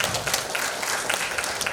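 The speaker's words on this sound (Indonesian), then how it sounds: "Kita beri tepuk tangan buat Anda semua." Audience applause for beauty and skin-care training trainees, a steady dense patter of many hands clapping at moderate distance, continuous and fairly soft throughout.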